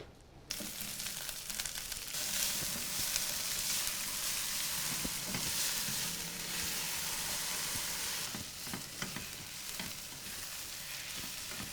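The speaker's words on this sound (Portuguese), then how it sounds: "Então agora a gente entra no processo de refogar" Vegetables sautéing in a pan give a steady, close sizzle and crackle, with scraping as they are stirred, continuous and fairly loud throughout with no talking.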